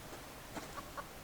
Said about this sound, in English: Chicken, really?